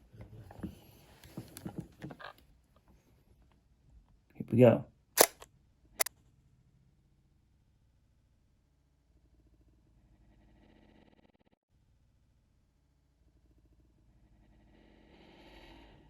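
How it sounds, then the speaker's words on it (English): Someone speaks briefly, then a Nikon D7200 DSLR's shutter fires with a sharp mechanical clack followed by a second crisp snap as the mirror locks up, and quiet follows. "Now we have to press the shutter to open her up here."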